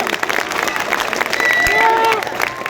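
Crowd applause at an outdoor political rally on a cold evening, a dense wash of clapping with some cheering, overlapping a public address voice and whistle-like tones.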